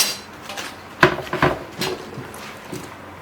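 A knife cuts the hard core out of a cabbage on a wooden board, giving a few sharp thunks and crunchy cuts close up with quiet pauses between them.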